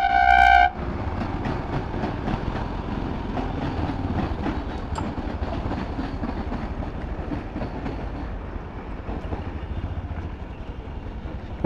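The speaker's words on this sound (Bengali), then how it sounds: "এই পাশে আবার ট্রেন যাচ্ছে।" A Vande Bharat train passes close by near the Farakka bridge, its horn blaring briefly before a loud, continuous rumble of wheels and carriages fills the rest of the scene.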